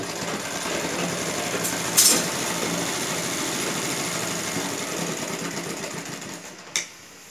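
A sewing machine stitches a fall onto a folded half-inch edge of a silk saree, giving a steady, continuous mechanical whir throughout with a couple of brief sharper clicks.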